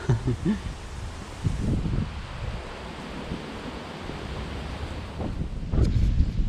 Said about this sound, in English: Bit windy today.